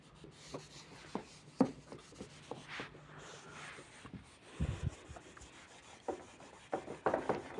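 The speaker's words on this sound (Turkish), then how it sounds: "Şimdi sil şu şey tahtayı." A board is wiped clean with soft, uneven rubbing strokes up close, mixed with scattered light taps and knocks.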